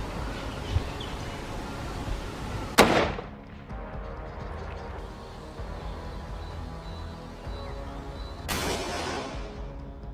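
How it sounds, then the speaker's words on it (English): Two sharp gunshots ring out in a forest, one loud and near followed by a fainter, more distant report several seconds later, each leaving a short echoing tail over quiet ambience. "When the gunshot rang out"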